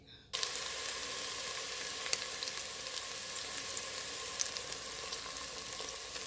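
Diced onions hitting hot oil in a saucepan for shrimp fried rice, a sudden onset of bright, crackling sizzle that holds steady and fairly quiet with scattered pops, no voices.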